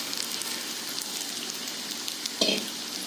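Potato and sago mixture frying in a pan over a low flame, giving a steady soft sizzle with a brief louder crackle as more mixture hits the hot oil.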